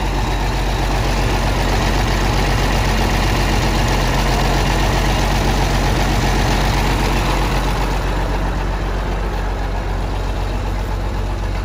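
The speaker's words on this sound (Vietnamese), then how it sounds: "Máy nổ êm lo luôn," A Massey Ferguson MF 3090 tractor engine idles steadily and loudly up close, a constant low diesel rumble with no other sounds.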